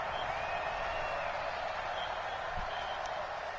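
At an American football game between the Rams and the Patriots, a distant stadium crowd roars and applauds in a steady, faint wash of noise.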